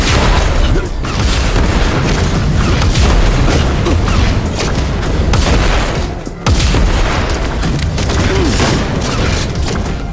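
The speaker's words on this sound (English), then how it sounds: "the rocket launcher, which actually used a combination of model rocket noises, a forklift, as well as a couple package belt sounds" Loud, dense video game rocket launcher firing and reloading, built from model rocket noises, a forklift and package belt machinery recorded at a UPS facility; continuous booming blasts and mechanical clatter with a brief dropout near the middle.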